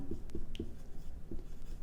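Chalk or marker taps and short scratchy strokes on a classroom board during an SQL lesson, a few quick marks in an uneven rhythm, close and fairly quiet.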